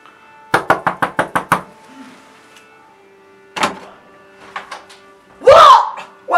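A rapid run of seven sharp knocks on a backstage dressing room door, loud and close, followed by a few scattered thuds and a brief burst of voice.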